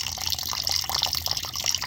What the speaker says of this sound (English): I just pull the hose and I put the water.